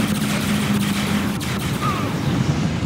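Sustained bursts of unit gunfire rattle continuously in a Command & Conquer 3: Kane's Wrath skirmish battle, dense and loud throughout, with faint radio-style unit voices underneath.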